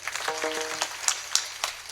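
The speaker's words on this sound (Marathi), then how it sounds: "एक टाळी सिस्टीम करता वाजवा" A kirtan audience gives a round of applause for the sound system, a moderately loud, scattered clatter of many hands with a brief tonal voice early on.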